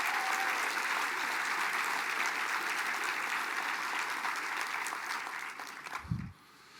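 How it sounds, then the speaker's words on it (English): Warm applause from an audience at a tribal government address, a sustained wash of clapping that fades out near the end, followed by a brief low thump. "Let's give Kelly a round of applause"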